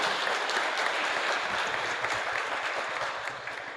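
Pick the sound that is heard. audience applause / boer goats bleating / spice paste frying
audience applause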